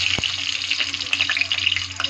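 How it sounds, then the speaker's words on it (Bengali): Dried red chilli crackles in hot oil in a kadai, a steady close sizzle with a few sharp pops and spits, no voices over it. "দেখো তেল ঢেলে দিলাম, ওর মধ্যে একটা শুকনো লঙ্কা দিয়ে দিলাম"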